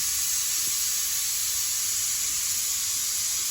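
A pressure cooker cooking meat lets out a constant, high-pitched steam hiss, steady and unbroken throughout, moderately loud and with no voices.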